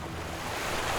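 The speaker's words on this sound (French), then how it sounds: "Madame la rivière. Tu n'es pas du tout calme et paisible." Rough, rushing river water pours in a continuous broadband roar, loud and close throughout the short stretch, with no voices.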